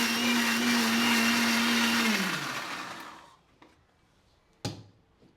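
Mixer blender grinding onion, coriander, mint and green chillies into a green paste, a loud steady whir that winds down and stops after about two seconds, followed by a couple of faint knocks.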